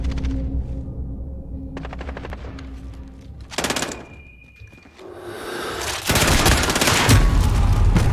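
Automatic gunfire in a video game comes in loud bursts: brief rattles early, a sharp volley midway, then a heavy, sustained barrage at the end, with mechanical clunks between.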